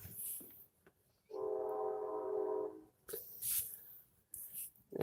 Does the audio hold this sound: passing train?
yes